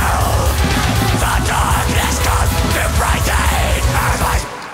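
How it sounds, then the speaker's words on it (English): Screamed metal vocals cut through a dense, loud full-band mix, with a Trackspacer-style effect at full strength ducking the instruments beneath the voice; continuous and heavy until the sound drops away at the end. "you can really hear like those vocals are like pushing down everything"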